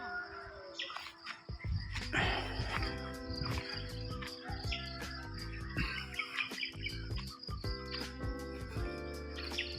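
Many birds chirp and tweet at once in dense overlapping calls on a farm in Bulacan, with bursts of louder chatter nearby and a busy outdoor background.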